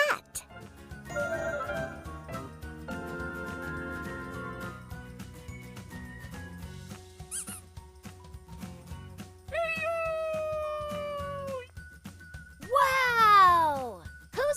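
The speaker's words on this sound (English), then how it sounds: "C is for cat." A children's alphabet song pairs chimes and a bright jingle with a voice. Two clear cartoonish cat meows follow, rising and falling, the second louder and near the end.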